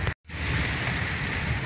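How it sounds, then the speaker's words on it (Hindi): Heavy rain pours steadily in Rawalpindi, Pakistan, a dense, even hiss close by. The downpour cuts out for a split second near the start, then resumes without a break. "ये देखिए कितनी तेज़ बारिश लगी हुई है"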